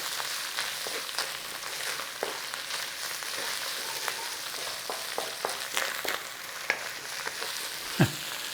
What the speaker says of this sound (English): Spices will bloom in that oil with that meat and garlic